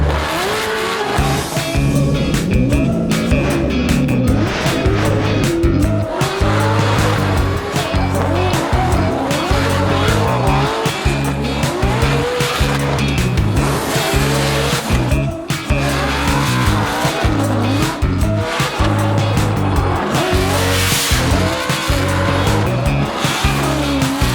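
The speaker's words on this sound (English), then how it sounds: "Matt Field throws it into that first big outside zone" Drift cars battle in tandem at a Seattle event, their engines roaring continuously while the tires squeal and screech loudly throughout, with rhythmic surges as the cars throttle through the course.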